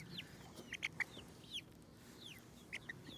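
Chickens cluck in short, bright bursts, several scattered calls over a quiet farmyard background, moderately near, with no talking.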